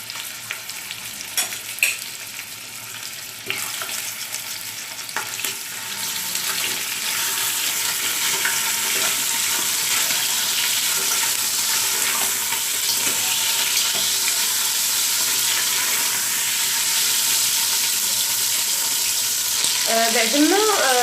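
Lamb meat searing in oil in a pot for couscous gives a loud, dense sizzling hiss that swells and holds steady, with stirring clatter early on and a faint voice near the end.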